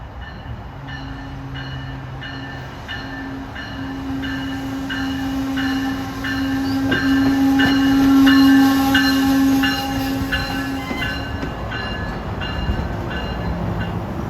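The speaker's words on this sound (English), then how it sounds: "There's EXO train 121." EXO commuter train 121 with Bombardier bi-level cars rolls past near Montreal on the CN Kingston Sub. A steady rumble of wheels clicks rhythmically over rail joints, and a sustained horn tone swells in the middle.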